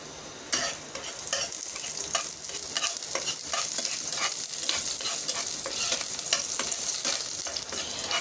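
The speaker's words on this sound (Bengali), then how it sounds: "দিয়ে দিচ্ছি পেঁয়াজ।" Onions sizzle loudly in hot oil in a pan, a dense steady hiss with crisp crackles and repeated scraping strokes of a stirring spoon, close and without speech.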